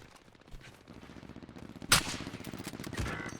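Gunfire in Call of Duty: Warzone, a few distant sharp shots over a low battlefield rumble, with one louder crack near the middle and another burst shortly after.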